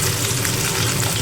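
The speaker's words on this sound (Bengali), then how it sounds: "সেই মাছও কড়া করে ভাজবেন" Koi fish frying hard in hot oil, a loud, steady crackling sizzle that fills the whole short stretch with no voices.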